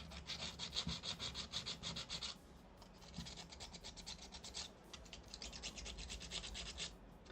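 Sandpaper rubs paint off a ceramic clown figure in quick, rhythmic back-and-forth strokes, close and fairly faint, with a brief pause between bursts.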